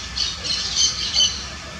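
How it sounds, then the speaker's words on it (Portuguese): Parakeets squawk in a park beside a small lake, several harsh bright bursts in quick succession over steady outdoor background noise, moderately close. "Os periquitos estão ali."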